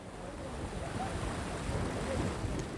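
Seaside wind, just strong enough for flying a kite, blows as a steady broadband rush with low buffeting on the microphone. Faint surf may lie beneath it, and no one speaks.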